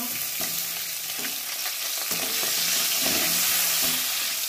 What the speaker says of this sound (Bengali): ওই তেলে আমি পাগুলো ভেজে নেব।